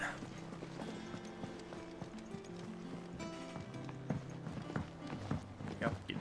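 A mount gallops in Final Fantasy XVI with a steady, rhythmic clip-clop of hooves up close, its hoofbeats growing sharper toward the end, as a person talks over it.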